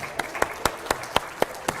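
A single person's hand claps ring out at the U.P. State Fair, seven evenly spaced claps over a faint background murmur.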